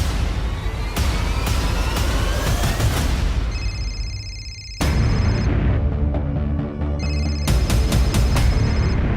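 A harsh electronic ringing sounds twice in repeated bursts, like a phone ringing, over loud rumbling noise, with no voices.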